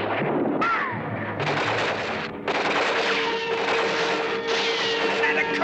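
Cartoon gunfire, bullets hitting a shield, as dense continuous rattling machine-gun bursts with metallic ricochet whines, loud and sustained with brief gaps, mixed with shouting voices.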